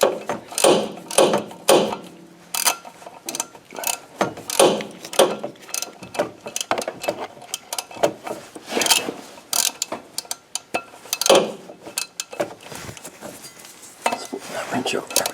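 Ratchet wrench clicking as bolts are tightened on a stuck engine in an IROC-Z barn find, cramped space; repeated bursts of metallic ratcheting and tool clanks, close and fairly loud, with pauses between strokes.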